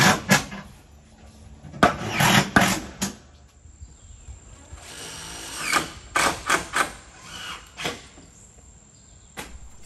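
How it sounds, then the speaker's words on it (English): A power drill drives screws through metal roofing sheets on a pole barn build, a series of short whirring bursts with gritty bite and pauses between them, fairly close over faint outdoor insect background. "easier to drill those screws through without trying to drill them through the sheet metal"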